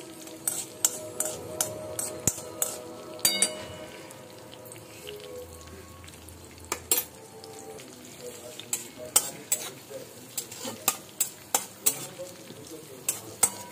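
A spoon stirs ingredients frying in hot ghee in a pan for sweet semolina modak, with a soft steady sizzle under repeated close scraping and clinking of the spoon against the pan.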